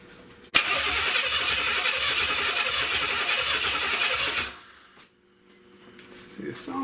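A Buick 455 V8 engine fires on its first start-up with a sharp crank, then runs roughly and loudly for about four seconds before cutting out, followed by faint sputters and a quieter attempt to restart.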